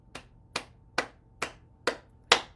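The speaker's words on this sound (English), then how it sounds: "So we're just going to clap." Six single slaps of a palm on the inside of the elbow crease, evenly spaced about half a second apart, close and crisp in a quiet room.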